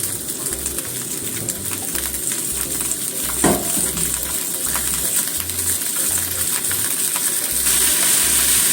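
Spring cabbage stir-fried in rice oil in a hot frying pan gives a steady broadband sizzle throughout, with a brief clatter of a utensil partway through and the frying swelling slightly louder near the end.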